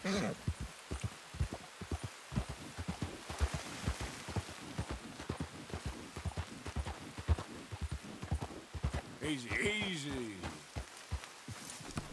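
Horse hooves clop in a steady galloping rhythm while riding in the video game Red Dead Redemption 2, close and continuous, and a horse whinnies near the end.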